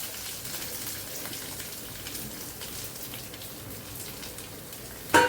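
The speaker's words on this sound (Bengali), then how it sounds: "ডালটা ভালো করে ভাজি করে নেবো বাদামের সাথে।" Mung dal being fried with peanuts in a pan while cooking a vegetarian taro stew, a steady hissing crackle of frying that runs evenly throughout, with no talking.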